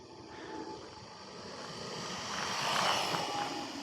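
A RLAARLO XDKJ-001 1/14 scale RC buggy runs at full throttle, its motor giving a steady, whining drone that swells to a peak before easing slightly, heard at a distance with no talking.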